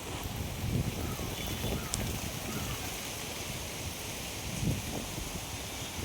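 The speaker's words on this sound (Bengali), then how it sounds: "কি ঝড় হচ্ছে।" Kalbaishakhi (nor'wester) storm wind roars in a steady wash of noise, swelling in occasional gusts, fairly distant and muffled.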